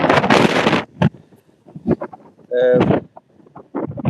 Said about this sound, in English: As you can hear, the wind's quite windy.